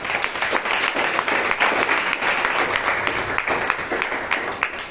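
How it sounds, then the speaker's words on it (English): Audience at a Bangalore Toastmasters meeting induction ceremony breaks into steady, dense applause, a close, continuous wash of many hands clapping with no talk over it. "Big round of applause for Brian"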